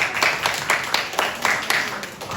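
Students in a classroom clap together for a group's work, a brisk, steady patter of many hands with regular rhythmic peaks, moderately loud and close.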